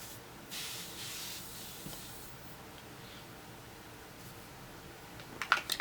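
Makeup setting spray is misted in short, soft hissing bursts close by. A few small clicks and taps follow near the end.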